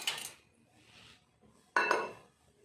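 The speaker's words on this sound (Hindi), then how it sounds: "मैं चाय छान लेती हूँ पहले।" Dishes and cups clink in a home kitchen as tea is strained into cups, with a soft burst of clinking at the start and a louder clatter near the end, no talking.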